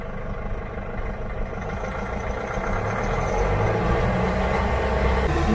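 A motorhome engine runs close by with a steady, low droning rumble that grows slightly louder halfway through and carries on without pause.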